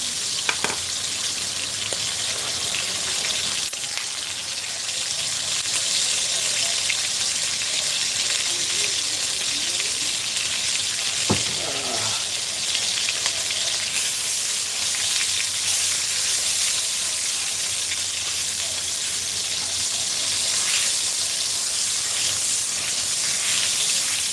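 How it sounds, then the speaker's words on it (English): Meat searing in a hot pan for a Sunday pot roast, a loud, dense sizzle and hiss that runs steadily and close, with a few sharp clicks and pan knocks along the way. "All we're doing is searing the meat here."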